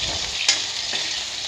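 Potato pieces frying in hot oil in a home kitchen, a steady close bright sizzle with a brief stir partway through and no voices.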